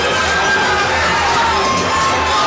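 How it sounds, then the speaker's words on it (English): A large RushClub competition crowd cheers and shouts continuously for a rope-climb competitor, a dense, loud roar of many voices with higher children's shouts mixed in, sustained without pause. "You have this entire RushClub Nation crowd cheering them on behind him, rooting for him."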